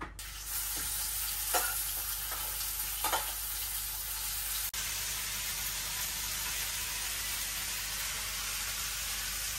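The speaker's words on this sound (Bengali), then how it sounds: "এই যে আগে এখন মাছটা ভেজে নেই।" Fish frying in a hot pan gives a steady broadband sizzle throughout. A few brief stirring or scraping accents come early, and no one speaks.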